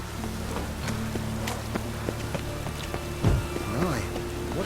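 Steady rain falls in The Witcher 3, a soft, continuous patter with scattered drops and faint tonal game sounds layered beneath, moderately quiet.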